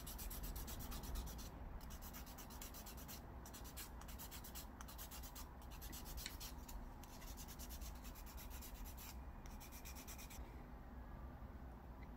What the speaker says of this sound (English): So I will be filing my nails